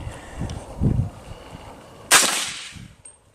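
A single sharp, loud gunshot cracks out during an outdoor hog hunt in Texas, its report ringing and fading over a second, preceded by faint low rumbles and murmurs.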